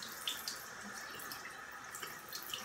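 Tap water runs into a sink to wet a facial spin-care brush, a soft, steady, fairly faint stream of splashing with small irregular droplet sounds.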